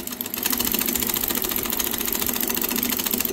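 A single high-speed sewing machine fitted with a buttonhole attachment runs steadily and loudly for the whole stretch, its needle pounding in a fast, even mechanical rhythm with no voices.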